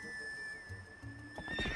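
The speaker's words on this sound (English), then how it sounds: "It's very convenient being able to really quickly call your horse." A horse from the Zelda game Twilight Princess whinnies and neighs loudly, then its hooves clip-clop as it gallops up close over a steady game music drone, with no talking.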